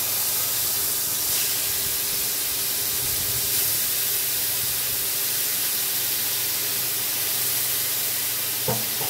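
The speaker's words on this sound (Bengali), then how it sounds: "এখন আমি দিয়ে দিব আগের থেকে যে মূলোটাকে লবণ মাখিয়ে রেখেছিলাম, মূলো শাকটাকে, সেটা আমি এখন দিয়ে দেবো।" Salted radish greens hit hot oil in a pan of tempering, giving a steady loud broadband sizzle and hiss that runs the whole time with no voices, plus a small clatter near the end.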